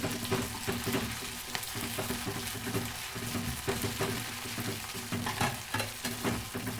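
Ginger garlic paste frying in a pan, a continuous crackling sizzle with frequent scraping stirs, close but moderately quiet, no voices.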